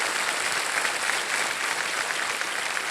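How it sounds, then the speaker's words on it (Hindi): A television quiz show studio audience breaks into sustained, loud applause, a dense wash of clapping that stays even from start to finish with no speech on top. "तालियां बज जाए उनके लिए।"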